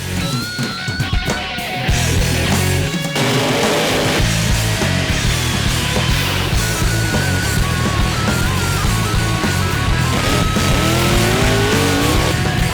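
A small-block-powered Jaguar makes a drag racing run at the Southern Nationals, its engine blaring loud and continuous after a brief rev, pitch climbing through repeated gear changes as it accelerates hard down the strip.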